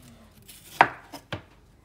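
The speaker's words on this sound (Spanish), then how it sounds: "Y así vamos a ir con toda la cebolla" A knife slices through a medium onion on a cutting board, three sharp chopping strikes spaced unevenly, close and crisp against a quiet room.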